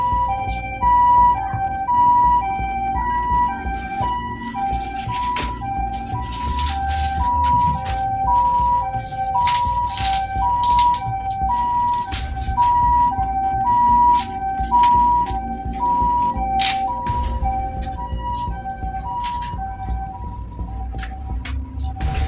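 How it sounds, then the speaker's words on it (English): An ambulance siren wails steadily in a repeating two-tone pattern, loud and close, over a low rumble of road traffic, with no talking over it. "It's coming close. What the heck? That is an ambulance."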